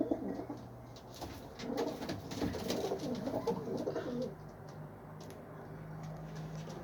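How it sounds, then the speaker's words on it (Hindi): Pigeons coo in soft, low, rolling calls, close by, with occasional rustling and light tapping around them, in Saudi Arabia. "सियालकोटी मोतियां का कबूतर है जनाब"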